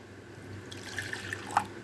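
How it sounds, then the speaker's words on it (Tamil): Water trickles faintly into a pot of cooked dal while gongura sambar is being made, a soft, brief pouring with a few small splashes and drips over a quiet kitchen background. "நான் கொஞ்சமாக தண்ணி மிக்ஸ் பண்ணுறேன்."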